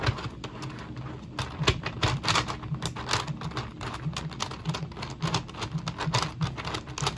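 Rapid clicking and clacking from a custom Kilo-Tetradecaminx twisty puzzle with hexagonal faces being turned during a quick solve, with dense irregular bursts close up and no talking.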